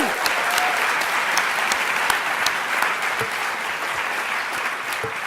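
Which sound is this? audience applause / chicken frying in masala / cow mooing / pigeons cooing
audience applause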